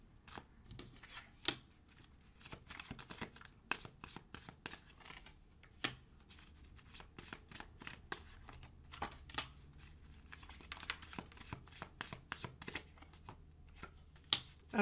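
Tarot cards are shuffled and pulled by hand: a long run of quick, crisp riffling and snapping card sounds in irregular bursts, close and fairly quiet, with no talking.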